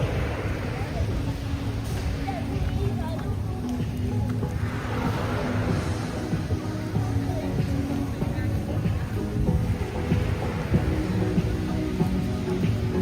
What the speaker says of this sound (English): The rain is starting to pick up a little bit too